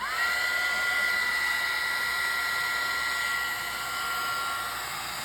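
A heat embossing gun blows hot air over embossing powder on a craft project, a loud, steady, close whine and whoosh that runs continuously and fades slightly near the end.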